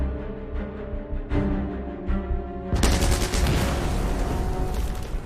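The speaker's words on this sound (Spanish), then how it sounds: "los canadienses se siguen enfrentando a los intensos disparos que están realizando los defensores alemanes con armas pequeñas" Small arms gunfire from a WWII battle in which Canadian troops face German defenders, with scattered shots and then a dense, sustained crackling barrage of rifle and machine-gun fire, loud and continuous, with no talking.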